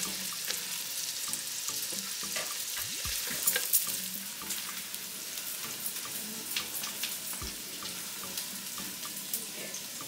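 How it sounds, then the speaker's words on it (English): Onion sautés in a pan, giving a steady close sizzle throughout, with intermittent scraping and clinking of a stirring utensil and faint splashy water-like sounds. "sauteing the onion, let it get a little soft"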